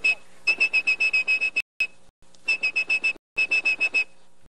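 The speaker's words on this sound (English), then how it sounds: "He'd be able to control the system just by whistling." Whistled tones used to control the phone network come in rapid pulsed bursts of a single high pitch, separated by short silent gaps, loud and close with nothing else heard.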